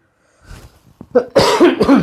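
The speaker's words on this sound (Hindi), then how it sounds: "गला सूख रहा है, खांसी आ रही है।" A few short, harsh coughs, starting faint and growing louder and closer, bunched together over a couple of seconds.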